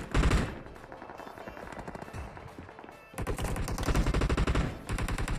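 Rapid automatic gunfire in PUBG on the Erangel map rattles almost without a break, with a louder, denser burst in the second half.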